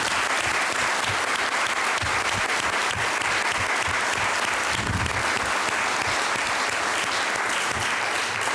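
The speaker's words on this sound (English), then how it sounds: "I wish everybody gives these young men a round of applause." A council meeting audience gives a round of applause for a group of young men, with dense, steady clapping filling the room throughout and no talk over it.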